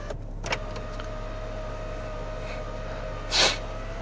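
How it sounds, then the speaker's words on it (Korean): A BMW X6 electric sunroof runs on its motor with a quiet, steady hum, a few faint clicks at the start and a soft brief whoosh near the end, in a calm car interior. "정말 빠른 속도로 잡소리 없이 작동되는 썬루프 보실 수가 있는데요"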